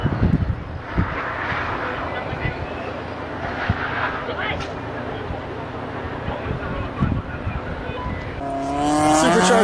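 A supercharged Mazda Miata on slicks runs an autocross course, its engine a continuous raspy drone that rises near the end into a loud, climbing whine with clear revving harmonics, while people talk over it.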